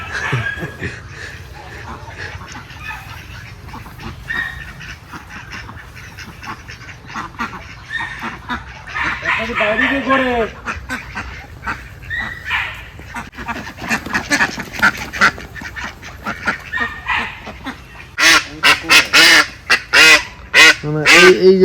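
Ducks for sale at a market, quacking and honking repeatedly, growing louder and more rapid toward the end, over steady background chatter and voices of people nearby.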